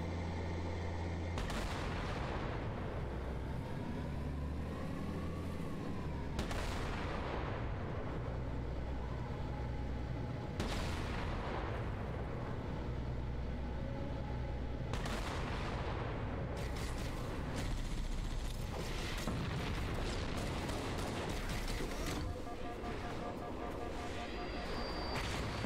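Repeated heavy rocket launcher blasts and booming explosions in Halo: Combat Evolved, several loud detonations spaced a few seconds apart over a continuous roar of battle noise.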